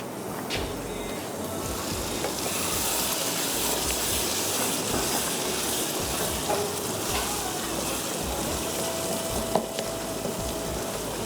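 Raw minced-meat kebab mixture sizzling and frying in a pan, a loud continuous close hiss with occasional stirring scrapes, heard alone.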